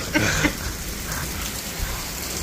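Heavy rain mixed with hail pours down outside, a dense hiss with scattered sharper impacts and a few louder bursts near the start, steady and fairly close, with no voices.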